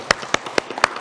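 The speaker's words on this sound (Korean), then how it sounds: "박수." A congregation claps during a Korean church service in Berlin, with four sharp, separate claps spaced evenly across one second.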